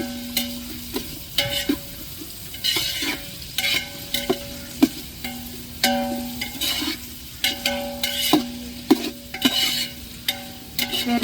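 Onions sautéing in a pan give a continuous sizzle while a spoon scrapes and taps against the metal in an irregular stirring rhythm, close and fairly loud.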